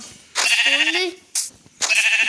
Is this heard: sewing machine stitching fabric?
no